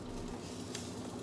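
Food cooking in a frying pan during meal prep for a sugar-free breakfast, a steady close sizzle and crackle held evenly throughout, with no voices.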